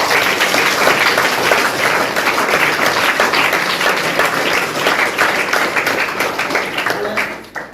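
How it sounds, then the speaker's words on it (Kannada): Loud, sustained applause from a large crowd of students at a high school children's festival fills the whole stretch, fading slightly at the very end. "ಜೋರಾಗಿ ಚಪ್ಪಾಳೆ ತಟ್ಟಾರೆ"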